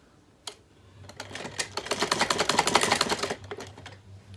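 Sewing machine stitching a legging side seam with a half-inch allowance, a rapid rhythmic run building up over a couple of seconds and then stopping, close and fairly loud.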